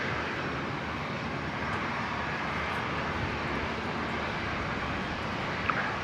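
A Rex aircraft lining up on runway 19 left at Brisbane International Airport, its engines a steady, dense roar held at an even loudness throughout, with no break or other sound standing out.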